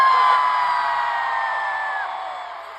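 A crowd at a lively gathering shouts and cheers together in one sustained burst of whoops and yells, loud at first and slowly fading over a few seconds.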